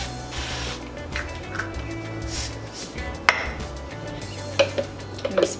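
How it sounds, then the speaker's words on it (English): Short hissing sprays of cooking oil onto a hot waffle iron over a background hum, followed by a few sharp metallic clicks and taps near the end. "Waffle iron's hot. Another little spray."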